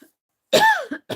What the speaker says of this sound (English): Got a little cough in my throat.